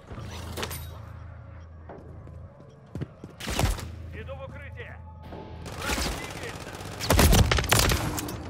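Gunfire in the video game Call of Duty MWZ: loud rapid bursts of automatic weapon fire, clustered near the start, middle and end, with a voice calling out between volleys over a constant game background.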